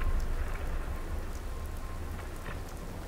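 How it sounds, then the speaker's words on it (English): Steady rain falling in the Fallout 4 video game, a dense hiss of drops with scattered close patters and no talk over it. "Hope this rain lets up soon."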